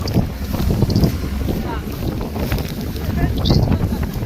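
Strong wind in stormy weather on a farm, roaring and buffeting the microphone in loud continuous gusts, with people talking throughout.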